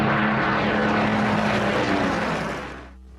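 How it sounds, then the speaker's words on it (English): Spitfire fighter plane, a WWII-era British aircraft, roaring past loud and close with a steady propeller-engine drone that holds for most of the moment, then fades away toward the end. "the young pilots of Mitchell's Spitfires would have to fight for their lives"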